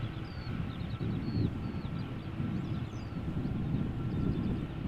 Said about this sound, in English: The A320 Neo from Play, arriving from Reykjavik.